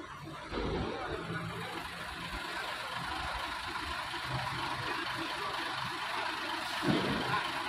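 Truck idling while parking inside a ship at port: a steady low engine drone over broad hissing echoey ambience, with faint muffled voices and knocks in the cavernous space.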